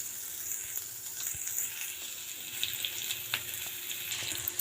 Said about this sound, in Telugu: ఇవి మనం ఒక 10 నిమిషాలు మగ్గించుకుందాము.